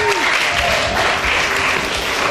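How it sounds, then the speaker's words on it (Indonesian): Dense applause from guests at a Toraja–American mixed wedding ceremony, steady and close throughout, with a voice speaking briefly over the clapping. "Kita berikan tepuk tangan."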